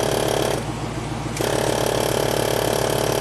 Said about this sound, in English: it's not a vacuum brake booster, it's an actual pump